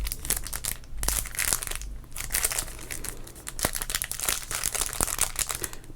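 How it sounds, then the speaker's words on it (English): A baseball card pack is crinkled up close for ASMR: continuous crisp, dense plastic crackling and scrunching, steady and fairly loud throughout with no talking. "this is a ASMR channel, which means we're going to crinkle up first."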